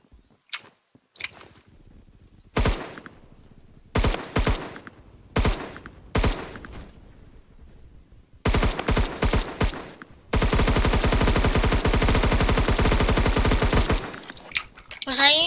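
Gunfire in the Roblox shooter Phantom Forces: scattered single shots, then clustered bursts, then a long sustained automatic volley that stays loud and close.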